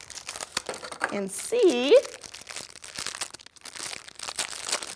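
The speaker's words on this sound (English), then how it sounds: "Then you're going to unwrap your spacesuit" Crinkly wrapping being pulled off a homemade model spacesuit, close crackling and crumpling in uneven bursts while a voice speaks briefly.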